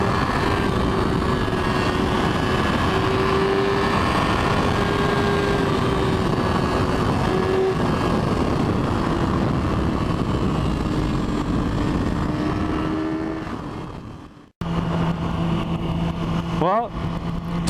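A 2010 Yamaha R6 600cc sport bike engine revs hard at high RPM, giving a loud, sustained, wind-blown drone. Near the end it cuts out abruptly, then returns at a lower pitch.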